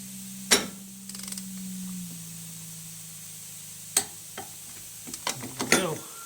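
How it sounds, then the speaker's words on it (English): A torque wrench tightens a wheel nut to 75 foot-pounds during a wheel seal replacement, with sharp isolated clicks and ratcheting taps scattered over a low steady hum. "I'll put my torque wrench on it. I got this to 75 foot-pounds."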